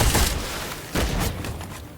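Hand cannon revolver shots in the video game Witchfire, two heavy booming blasts about a second apart, loud and close with a short fading tail.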